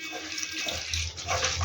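Flattened rice (poha) being washed by hand in a mesh bowl, with a steady splashing, trickling water sound and soft sloshing as the flakes are stirred, close and continuous.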